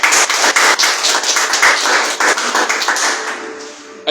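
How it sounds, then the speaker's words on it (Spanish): A church congregation claps together during a Spanish-language sermon, a loud, fast run of close, sharp hand claps that fades at the end, with no talking over it. "Dale fuerte palmas a Cristo."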